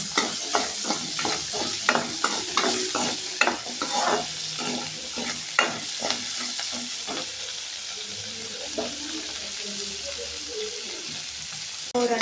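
Onion fries with cumin and a little salt in a hot pan, a steady sizzle broken by repeated stirring scrapes in an irregular rhythm, close and fairly loud, settling into a quieter hiss near the end.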